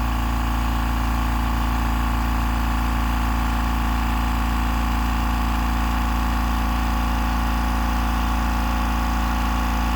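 A Master Force ultra quiet 2-gallon, 135 psi air compressor (model 207-1503) runs continuously, giving a steady, even mechanical hum and drone with no breaks and no talking.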